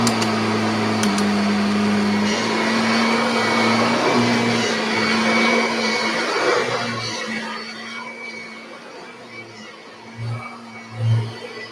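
A vacuum cleaner drones steadily with a loud motor hum, easing off partway through, then a few louder bumps and surges near the end.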